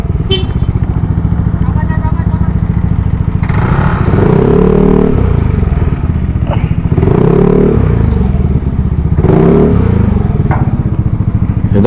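A motorcycle rides onto a roll-on roll-off ferry at port, its engine droning close by with repeated revving surges and clattering, scraping thumps as it boards, while people talk over it.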